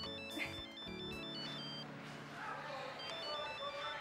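A telephone ringtone plays a repeating electronic melody at moderate volume, with faint voices and room sound underneath, in an Indonesian television drama scene.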